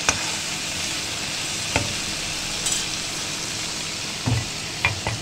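Eggplant frying in a pan with turmeric and salt while being stirred, a steady bright sizzle with occasional scraping knocks of the spoon, close and loud with no talk.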